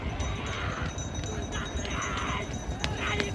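Bullock carts racing at full speed in a village bullock-cart race: a dense, loud roar of hooves, wheels and crowd noise, continuous and rumbling, with faint voices mixed in.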